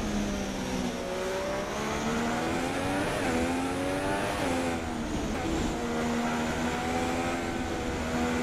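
A Haas Formula 1 car in F1 2016 at the Hungaroring runs with its wheels on the grass, the engine droning and revving steadily with a brief dip in pitch, loud and close throughout.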